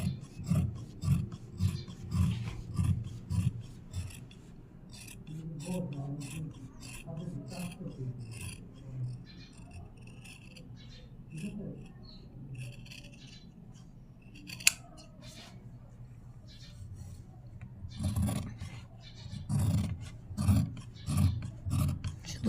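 Scissors slicing through a stack of several layers of dress fabric at once, a steady run of close, rhythmic snips and rasping cuts with a few pauses, then a louder burst of cutting near the end.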